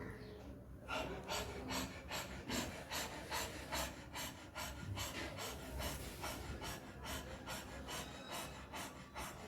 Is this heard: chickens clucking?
no